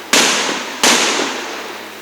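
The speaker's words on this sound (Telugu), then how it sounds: "అమ్మ, ఈ బాంబులు ఇప్పుడు ఎందుకు వేస్తున్నారో తెలియట్లేదు." Two loud firecracker bangs go off about a second apart at a wedding reception, each sharp crack trailing into a fading, crackling roar.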